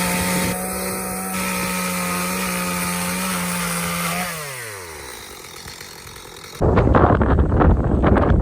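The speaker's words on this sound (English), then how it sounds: "Running screws in, or trying to attempt to run screws in." A power drill drives screws into pasture fence boards. A steady close motor whine winds down in pitch and stops, then a loud, harsh burst of tool noise follows.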